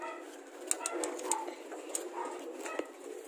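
Pigeons cooing, soft repeated throaty coos at close to moderate distance, with a few faint clicks and movement sounds around them and no talking.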